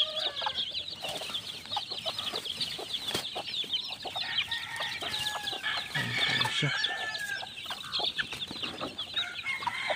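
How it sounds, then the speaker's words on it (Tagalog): Chicks and hens cluck and peep at feeding time on a poultry farm, a dense, steady chorus of chirping and clucking throughout with an occasional rooster-like call and a few scattered sharp knocks. "Sasabuyan lang po natin itong ating sisiw."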